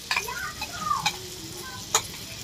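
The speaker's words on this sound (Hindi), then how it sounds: "तो साथ में ही भूंजा जाएगा।" Masala-coated chicken liver stir-fried in a pan, a soft steady sizzle broken by a few sharp scraping clicks of a spatula, close and fairly quiet with no talking.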